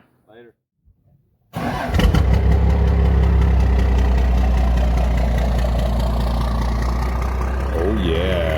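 A Cummins diesel in a white Dodge truck starts after brief talk, then settles into a loud, steady rumbling idle close by. It keeps running for the rest of the clip.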